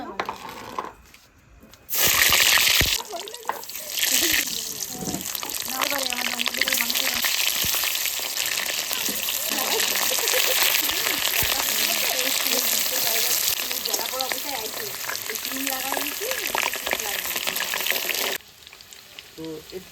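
Potatoes frying in a pan, a loud continuous sizzle that swells after a brief quiet start and runs steadily before cutting off near the end, with faint voices in the background.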